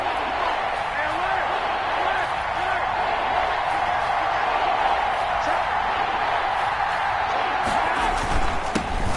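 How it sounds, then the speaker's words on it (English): A video game crowd in an American football stadium roars steadily and loudly before a big third down, a continuous wash of cheering throughout with faint thumps underneath. "The crowd getting into it as we come up on a big 3rd down."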